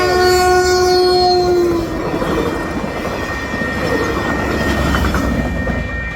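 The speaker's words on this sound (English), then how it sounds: "I was crossing the street in San Francisco in Burlingame and got caught by the train" A short train passes a street crossing in Burlingame near San Francisco, its horn blaring loudly at first before giving way to a sustained rumble of rail cars rolling close by.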